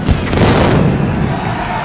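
Dense, rumbling booms from rapid masclet firecracker explosions in València merge into a continuous loud roar, with a crowd faintly audible underneath.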